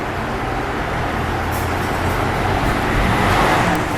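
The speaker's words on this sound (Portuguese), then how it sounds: "que também tá com barulho no motor." A Citroën C4 Lounge with a THP engine runs with an abnormal engine noise, giving a steady, loud, broadband mechanical drone that holds evenly throughout with no voices.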